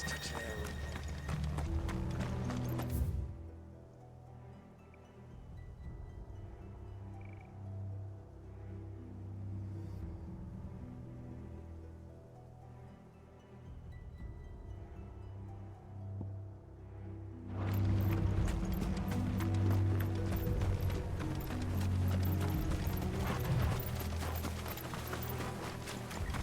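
Horses' hooves clip-clop in the video game Final Fantasy XVI, a busy galloping patter that drops away for a stretch and then returns louder and nearer, mixed with other game sounds and voices talking.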